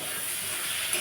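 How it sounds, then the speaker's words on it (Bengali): Chopped onions and three green chillies fry in a pan over cumin tempering, a steady close sizzle and hiss that holds evenly throughout with no voices. "আমি পেঁয়াজটা এভাবে লাল লাল করে ভেজে নিয়েছি।"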